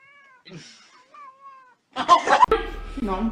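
A kitten gives several high, wavering meows, then a louder cat yowl follows with commotion and background noise, fairly close.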